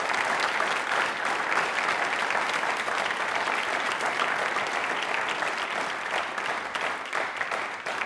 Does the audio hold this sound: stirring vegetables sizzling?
no